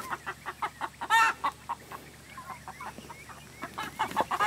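Chickens cluck in short close bursts while a goat butts them aside, with one louder agitated squawk early and scattered softer clucks after.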